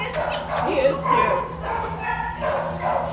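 A two-year-old female mother dog at an animal shelter yips and barks in short bursts up close, mixed with whimpering, while a person talks over it.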